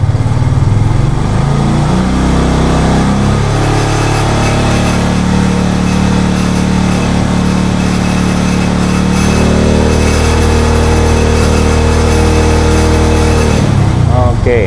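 A Honda Tiger motorcycle engine idles steadily and loudly nearby, a continuous droning hum with a slight rev change near the end.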